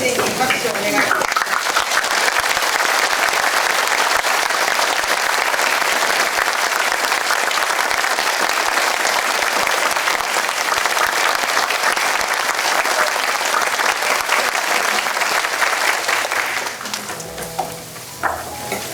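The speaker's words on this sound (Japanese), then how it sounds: "改めて大江先生に拍手をお願いします。" An audience in a lecture hall applauds at the close of a professor's final lecture, sustained dense clapping lasting many seconds before tapering off near the end.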